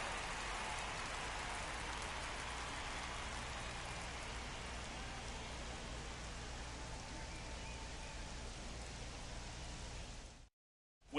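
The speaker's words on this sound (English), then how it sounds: "The rain is here, and it doesn't look like it's going away anytime soon" Steady heavy rain pouring down during a baseball game broadcast, a dense, even hiss of drops on surfaces that continues unbroken before cutting off at the end.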